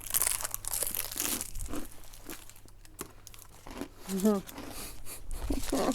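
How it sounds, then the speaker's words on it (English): Crunchy food being chewed close to the microphone, with crinkling wrapper rustles and brief bursts of crunching between quieter moments. "It's really crunchy. You can hear the crunching, can't you?"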